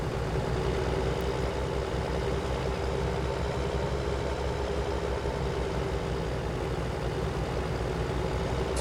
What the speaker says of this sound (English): this tractor can handle it pretty good